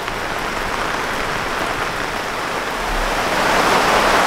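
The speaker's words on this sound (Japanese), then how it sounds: "ちょっと雨の方止んでほしいですね。" Heavy rain pounds steadily on a campsite at Hachi Kogen auto campground during a thunderstorm, a dense, loud, continuous roar that swells slightly toward the end, with no voices.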